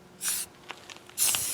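Two short hissing bursts from an aerosol spray can misting paint onto wheel covers and rims, close by, with a quiet pause between them.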